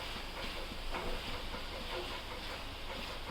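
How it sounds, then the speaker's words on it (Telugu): Garam masala paste frying in a pan for chilli mushroom, a steady broadband sizzle and hiss that stays even and close throughout, with no voices. "ఇలాగా ఫ్రై చేసుకోవాలి"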